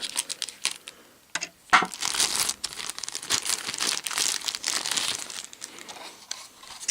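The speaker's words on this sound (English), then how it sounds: "Cut that little bit of tape." Tape being cut and cardboard and plastic packaging crinkled and torn open while unboxing an Atari Jaguar game, Iron Soldier; close, busy rustling and crackling with brief pauses, no talking.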